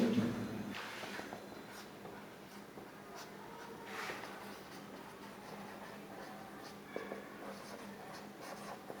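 Chalk or marker writing a math answer on a classroom board, a run of close scratchy strokes and taps with faint room noise and no talk.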